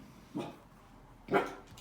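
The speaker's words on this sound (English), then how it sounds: "the corgis are barking as usual, as per usual" Corgis give two short, sharp barks, about a second apart, the second louder, heard indoors and fairly close by with no other sound.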